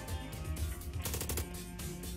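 Gunfire rings out in the Long Gone Days video game, a quick cluster of sharp shots around the middle over a low rumbling game soundscape.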